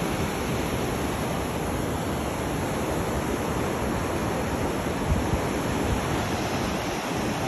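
Ocean waves surge and crash on Ocean Beach, producing a dense, continuous roar of surf and wash that stays loud and close without pause.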